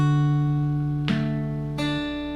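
Fingerpicked acoustic guitar pattern ringing close and clear, a sustained chord with two distinct new plucked attacks about a second apart, notes decaying between them with no voice.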